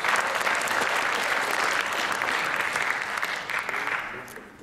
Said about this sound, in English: Mr. Srivasan, please give him a round of applause.